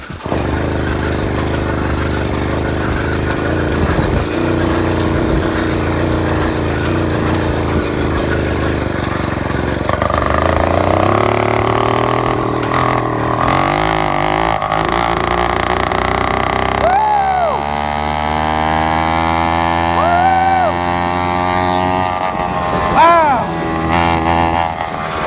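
A small 80cc engine on a lowrider motorized bicycle runs right after starting, a near, steady buzzing drone whose pitch shifts and climbs in stages as it revs, with talk over parts of it.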